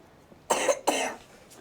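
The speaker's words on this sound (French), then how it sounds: "Oh, tu tousses toi?" Two quick, harsh coughs close to the listener, one right after the other, with quiet background around them.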